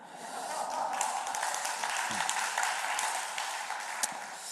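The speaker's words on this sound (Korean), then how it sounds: "가만히 있으니까 박수를 쳐야지." Church congregation at a Friday prayer meeting applauds in a steady, moderately distant wash of many hands clapping that lasts the whole stretch with no clear break.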